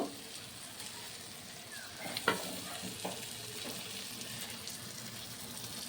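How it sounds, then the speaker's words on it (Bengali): Soft sizzling and stirring of an onion, cashew, tomato and chilli paste frying with spices in a wok, quiet and steady with a few sharp clinks of a spoon against the pan. "দিয়ে মশলার সাথে আবারও ভালো করে কষিয়ে নেব।"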